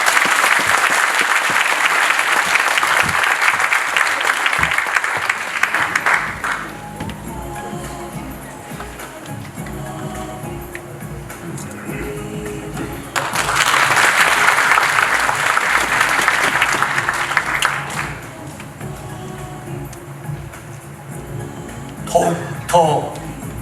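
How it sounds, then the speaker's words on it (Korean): Audience applause at a welcoming ceremony as a poet is called up to recite, a loud wash of clapping for about six seconds, then a speaking voice, then a second swell of applause before the voice resumes. "뜨거운 박수로 앞으로 모시도록 하겠습니다"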